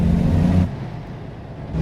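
A 385-horsepower truck engine accelerates in the American Truck Simulator game, a loud, steady low drone for about two-thirds of a second before dropping to a quieter hum and then swelling again at the end.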